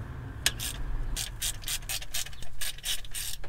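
A wrench ratchets while loosening valve cover bolts on a Mazda Bongo, a quick run of loud, close clicks in short bursts, alone without speech.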